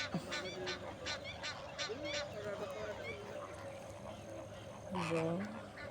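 Geese at Al Qudra Lake honking repeatedly, a quick series of nasal calls early on and a louder close honk near the end, with a person talking over the flock.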